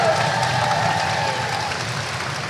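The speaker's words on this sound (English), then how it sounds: "Round of applause, ladies and gentlemen." Convention crowd at MCM London's MYM buzz stage applauding Red Dwarf guests Robert Llewellyn and Chris Barry, a steady dense wash of clapping with cheering voices mixed in.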